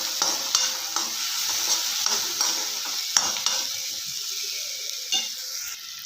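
Spicy macaroni pasta mixture stirred in a hot pan, a continuous soft sizzle with repeated scraping strokes of a spoon throughout.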